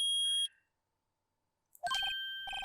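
A detector in the Phoenix Wright: Ace Attorney video game gives short electronic beeps: one tone, a silent gap, then a burst of tones that mark the detector reacting.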